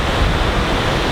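Ocean waves washing up onto a sandy beach, a loud continuous roar of surf and rushing water mixed with wind buffeting the microphone, close by.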